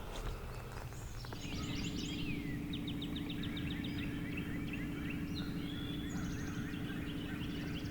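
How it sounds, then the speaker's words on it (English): A young wild turkey, a jake, gobbling and putting from up in a tree outdoors, giving several fairly faint rattling calls and chirps over a steady low background hum, with no voices. "he's still up there, just putting and gobbling and stuff"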